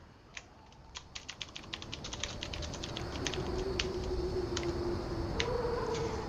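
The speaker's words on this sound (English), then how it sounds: "I'm actually going to type a sentence." Keys clatter in a rapid run of typing on a computer keyboard, starting as distinct clicks and quickening into a dense patter over a steady background hum.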